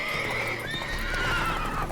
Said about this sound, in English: Ooh, another... more horses.